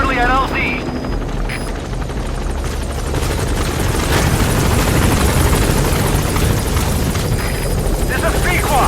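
Support helicopter in Metal Gear Solid V: The Phantom Pain arriving at a landing zone, a loud steady rotor roar with heavy low thumping that swells and holds throughout, with a radio voice speaking over it at the start.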